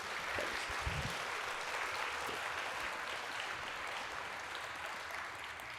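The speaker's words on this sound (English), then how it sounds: "Please give them another round of applause." Applause for the Fifth Street Bells, a handbell ensemble, at a December concert: a steady, fairly quiet wash of clapping from the audience that holds evenly for several seconds.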